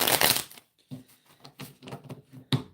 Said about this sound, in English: Let me shuffle these cards up pretty good, okay?